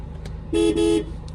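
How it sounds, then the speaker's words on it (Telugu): A 2018 Ford EcoSport Titanium 1.5 diesel sounds its factory horn in two loud, close toots in quick succession, the second slightly longer. "Company horn."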